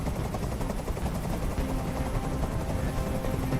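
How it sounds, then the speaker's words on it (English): A helicopter hovers close overhead in a video game, its rotor giving a steady, loud, fluttering thump throughout with no speech. "I can't stand that noise anymore. Tell that helicopter to get out of here."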